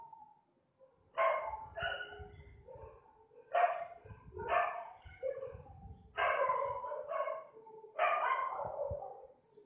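Dogs bark outside in several loud bursts of two or three barks each, separated by short pauses, at a moderate distance.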